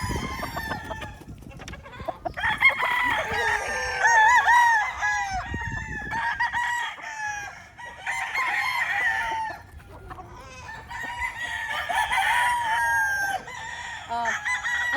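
Battle cross gamefowl stags crowing repeatedly at close range, several overlapping crows with clucking between them, mixed with faint voices of people in a poultry yard.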